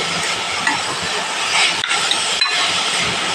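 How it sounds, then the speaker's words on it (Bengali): Papaya being stirred in hot oil in a wok, a steady bright sizzle and hiss with a few light scrapes and clicks of the spatula, close and continuous with no voices. "এবার আমি কড়াইয়ে নেড়ে নেব"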